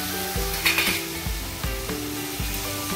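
Peas tipped into a pan of sizzling fried spices for a matar paneer pulao, steady frying hiss with a few soft stirring scrapes and knocks, fairly quiet and close.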